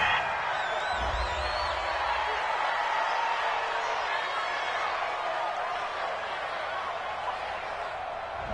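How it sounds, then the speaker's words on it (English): Home crowd cheering in a PS4 American football video game after a penalty flag on third down, a steady broad roar holding at even loudness throughout, with voices murmuring beneath it. "This home crowd, they're happy with that call."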